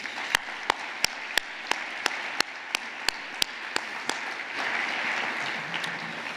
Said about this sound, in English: please join me in giving all of our organizations a round of applause.